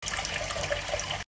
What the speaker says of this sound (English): We need some hot water for the pasta.